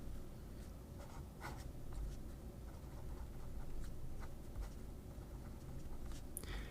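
Fountain pen, an OMAS Ogiva Espresso Martini, scratching across paper in soft irregular strokes, quiet and close, with small taps and scrapes spread through the stretch and no talking.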